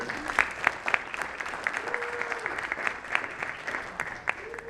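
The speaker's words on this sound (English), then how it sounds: "let's give a round of applause to our Leadership in Action students that are over here" A crowd at a leadership summit applauds Leadership in Action students with scattered, uneven claps, some sharp and close, alongside occasional voices and a few whoops in the room.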